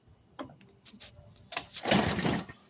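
A scooter engine tries to start after being sprayed with carb cleaner, giving a few short, uneven cranking bursts that build to a louder sputter near the end.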